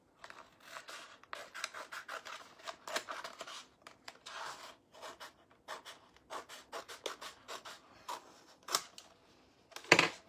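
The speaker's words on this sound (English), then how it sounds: "I'm just gonna cut to here. Or I'm going to cut there across" Scissors cutting straight across craft material for Christmas décor, a steady run of short crisp snips and rubbing strokes close by, faint overall, with a sharper clack near the end.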